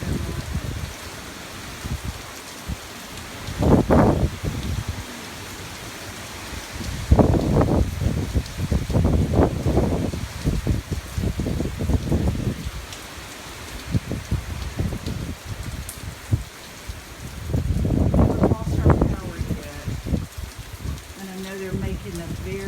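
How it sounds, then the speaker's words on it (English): Hurricane Matthew's gusting wind and rain at a window in Jacksonville, Florida: a constant rainy hiss broken by several loud roaring gusts that rise and fade, with occasional talk. "We got a pretty good gust coming in now."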